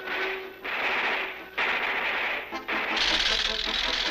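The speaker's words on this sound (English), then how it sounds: "These bullets don't hurt him." Rapid cartoon gunfire in an Underdog cartoon, bursts of bullets being shot in loud stretches with short gaps, mixed with a busy soundtrack and shouting voices.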